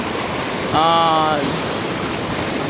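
Sea waves roll onto the sand at Suryalanka beach in Bapatla, a steady, moderately loud surf hiss, briefly overlaid by a short voice-like tone.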